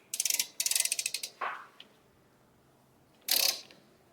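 A regular wrench is worked on a steering suspension part of a Chevy GMC 2500 Duramax truck, giving two quick bursts of ratcheting clicks, a short metallic creak, and a later ratchet burst, close and fairly quiet, with no talk.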